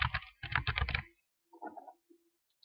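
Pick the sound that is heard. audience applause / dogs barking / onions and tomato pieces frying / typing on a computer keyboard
typing on a computer keyboard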